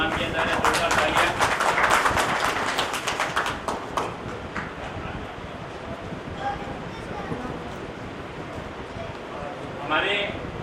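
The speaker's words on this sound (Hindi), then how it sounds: "बेदानी जी का चुनरी उठा के सम्मान किया जा रहा है। जोरदार तालियां।" Loud, dense applause from a crowd at a village retirement farewell ceremony as a guest is honoured with a chunri, strongest in the first few seconds and then thinning into a lighter patter with murmuring voices.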